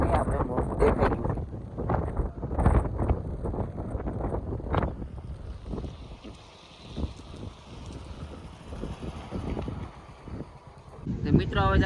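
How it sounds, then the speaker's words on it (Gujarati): Strong wind sweeps across a dam on a fishing outing, roaring and buffeting the microphone in loud, continuous gusts that ease a little toward the middle before surging again. "પવન તો ઉપડી ગયો છે"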